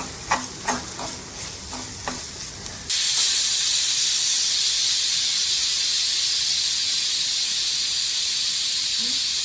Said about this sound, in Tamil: குக்கரில் ப்ரெஷர் போயிடுச்சு